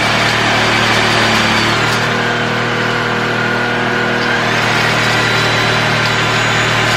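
A cordless vacuum cleaner switched on and running at a steady pitch, giving a loud, continuous motor whine close by with no talking over it.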